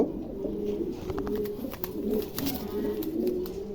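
A pair of pigeons coos steadily at close range, low throaty rolling calls repeating in overlapping phrases over faint background noise, with no talking.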